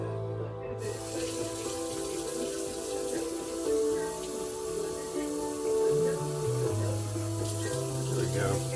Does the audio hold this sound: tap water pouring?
yes